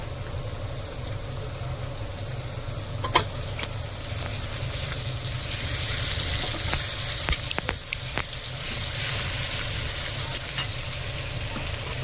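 Onions frying in a pan with ginger-garlic paste just added give off a steady, close sizzle, broken by a few sharp spatula scrapes and clicks as the mix is stirred. No one speaks.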